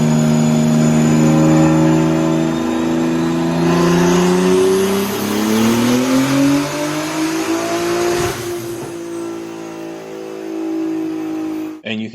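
Toyota A90 Supra with a Gen 2 B58 engine on a dyno pull, a loud sustained roar climbing steadily in pitch for about eight seconds, then dropping off to a lower drone, heard close with no talking.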